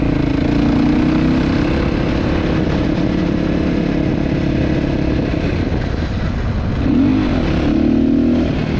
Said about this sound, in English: You can hear a little bit of the backfire, I guess it's slowing down.